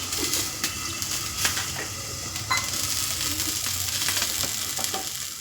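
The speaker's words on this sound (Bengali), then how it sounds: "এদিকে আমার কচু আর পেঁয়াজ ভাজা হচ্ছে" Taro and onion fry in an oil-filled pan with a steady, close sizzle and occasional clicks and scrapes, and nobody speaks.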